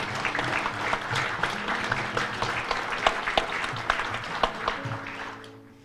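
An indoor political rally crowd, standing after a declaration of support for a presidential candidate, claps steadily in dense applause that fades out at the end.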